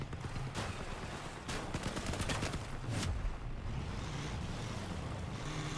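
Machine gun fire from a small jeep in the vehicle combat game Crossout: bursts of rapid shots around the middle over a constant rumbling engine and wind-like roar, fairly loud and with no voices.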